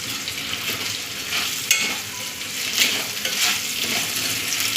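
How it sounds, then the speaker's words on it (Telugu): Potato and fenugreek curry being stirred in a hot pan, with scraping strokes and a steady sizzle, a couple of sharper clinks standing out, no talking. "సాల్ట్ వేసుకుని ముక్కలుగా పట్టేలాగా తిప్పుకుందాం"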